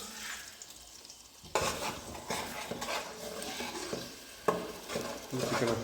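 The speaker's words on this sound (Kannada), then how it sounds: "ಈಗ ಸೋಟು ತಗೊಂಡು ತಿರುಗಿಸಿ" Meat stirred with a ladle in a cooking pot, a steady scraping and sizzling churn with clanks of utensil on metal, louder bursts of stirring partway through and continuing to the end.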